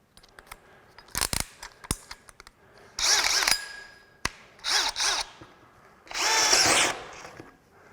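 A brushless hammer drill, the Craftsman CMCD731 model, bores into dimensional lumber in several loud, close bursts, with high revving whines between short pauses and sharp clicks and knocks.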